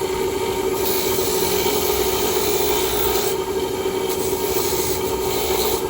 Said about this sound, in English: Cleaning the rocker arms.